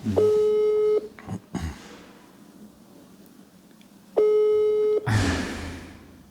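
Telephone ringback tone on an outgoing call to a captive's mother: two long steady electronic tone bursts about three seconds apart, each lasting roughly a second, with quiet line hiss between and a brief rustle after each.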